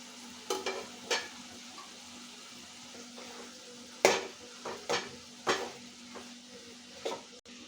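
Tomato is added to a frying broad bean curry in a pan and stirred in, with a low sizzle behind several distinct scraping and clanking stirs, close, no talking.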